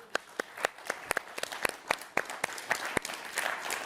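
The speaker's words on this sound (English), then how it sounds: "a round of applause por nuestra audiencia" Scattered applause from a small audience at a cooking demonstration, a few distinct claps at an uneven rhythm, fairly quiet and somewhat distant, with no talking over it.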